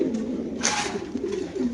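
A male maxi racer pigeon cooing nearby, a steady low gurgling coo with a brief brighter rustle partway through, otherwise alone.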